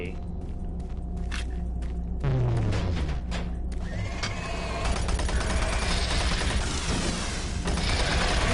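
Soul Rifle fire in a video game, rapid bursts of loud clattering shots over a dense rumbling backdrop of explosions and combat noise, with sustained automatic fire dominating the second half.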